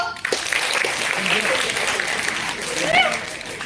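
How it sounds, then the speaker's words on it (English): A room full of people applauds and claps steadily at close range, with voices and cheers mixed in. "Clap for her."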